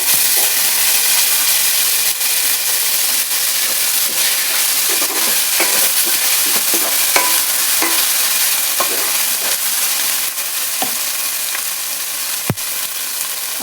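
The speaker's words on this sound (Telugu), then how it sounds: "ఆనియన్స్ ఫ్రై అవుతుంది." Chopped onions fry in a pan of hot oil, a steady dense sizzle running throughout with scattered clicks and scrapes of stirring, close and loud, with no voice over it.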